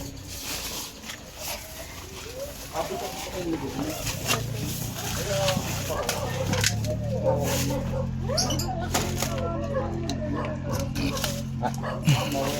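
Dogs barking intermittently at a house backed by forest, mixed with cooing doves and background chatter from people nearby, moderately faint within the outdoor ambience.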